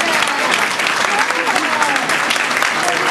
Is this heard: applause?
yes